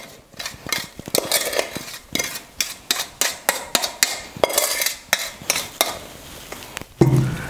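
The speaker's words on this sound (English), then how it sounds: "we're going to take the syrup mixture and we're going to mix it in with our nuts and flour" A spoon stirs a thick syrup mixture into nuts and flour in a bowl for panforte, making a steady series of rhythmic scraping clinks and knocks, close and fairly loud, with no talk.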